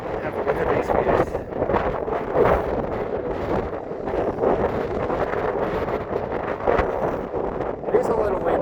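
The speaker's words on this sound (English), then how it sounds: "It is a little windy, so I do apologize." Strong wind buffets the microphone at about 9,500 feet in Roosevelt National Forest above Lake Estes, a constant loud rumbling roar with gusty surges.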